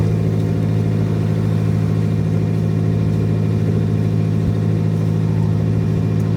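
A boat's diesel engine runs steadily on poor-quality fuel at sea, a loud, constant droning hum with an even low throb and no talk.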